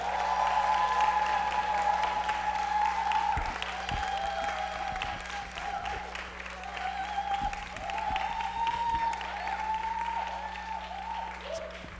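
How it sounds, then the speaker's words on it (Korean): A church youth-service congregation applauds and cheers to welcome the pastor, sustained full-room clapping with some shouts, moderately distant, while a voice speaks over the din. "우리 이기현 목사님 나오실 때 큰 환영과 감사의 박수 합시다"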